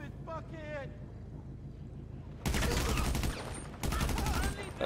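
Bursts of rapid gunfire in GTA V Online, loud and close, come in two long volleys after a quieter stretch with a voice speaking.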